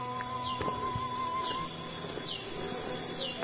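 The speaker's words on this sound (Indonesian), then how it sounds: "yang terdengar itu hanya suara kicauan burung dan hewan-hewan khas perkebunan" Repeated descending bird chirps over a steady insect drone, with faint rural plantation animal calls in the background of an outdoor setting.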